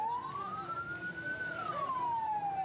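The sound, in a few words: ambulance siren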